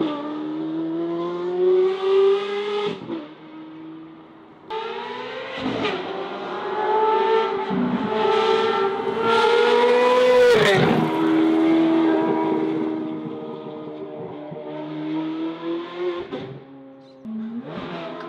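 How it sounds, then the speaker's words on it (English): Loud, high-pitched naturally aspirated Ferrari V8 with an aftermarket straight-pipe exhaust revving and pulling through gears, rising and falling in pitch with sharp shifts, close and continuous. "they're both naturally aspirated V8s, both have an aftermarket very high pitch exhaust system"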